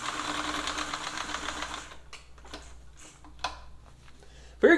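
A Brother free arm sewing machine runs as a steady close whirring hum with rapid ticking for about two seconds, then stops, leaving faint clicks and handling noises and a sharp knock at the end.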